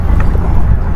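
A boat cruising the Alleppey backwaters during a boat ride, a steady low engine rumble with wind buffeting the microphone, close and loud throughout with no talking.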